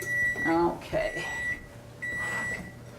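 An oven set to 350 degrees beeps to show it has preheated, sounding a few clear electronic tones close by while a person talks over them.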